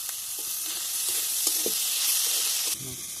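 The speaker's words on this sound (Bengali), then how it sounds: "এর মধ্যে এবার আদা আর রসুন বাটাটা দিয়ে দেবো দিয়ে ভালো করে আমি কষে নেবো" Ginger-garlic paste and tomato frying in a pan, giving a steady loud sizzle with a few soft stirring scrapes, close up and continuous.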